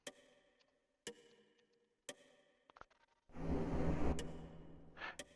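Stately grandfather clock ticking in The Colonel's Bequest computer game, slow regular ticks about once a second in a quiet empty hallway, then a broad louder noise swells over the last two seconds.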